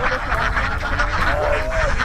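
Laying ducks on an open-field duck farm call out in a loud nasal chorus, overlapping honking quacks from a large flock close by over a dense background of birds.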